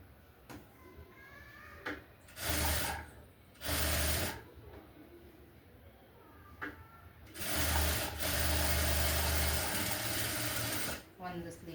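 A sewing machine stitches the side seam of a blouse in several loud, whirring bursts, two short runs followed by a longer sustained run, separated by quieter pauses.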